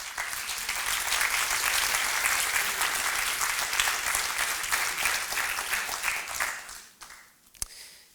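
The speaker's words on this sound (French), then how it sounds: "je vous propose de l'applaudir très très fort" An audience at a cultural proposals presentation gives a sustained, dense round of applause, loud and even for about seven seconds before tapering off, with a faint stray clap near the end.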